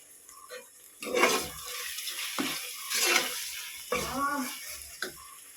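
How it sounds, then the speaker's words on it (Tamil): Mint and coriander leaves are sautéed in a pan, making bursts of sizzling and stirring scrapes that rise and fall close by, with a voice heard briefly in between. "ஒரு கைப்பிடி அளவு மல்லிச்சப்பும் போட்டு சேர்த்து வதக்கி விட்றேங்க"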